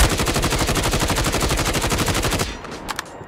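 A GRAU 5.56 assault rifle in COD Mobile fires a long full-auto burst of rapid, evenly spaced loud shots, then stops abruptly, leaving a few faint clicks and game sounds.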